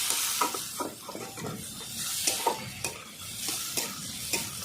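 Chopped onion frying until browned for a kohlrabi, prawn and coconut dish, a soft sizzle beneath repeated rhythmic spatula scrapes and taps against the pan, close and unhurried.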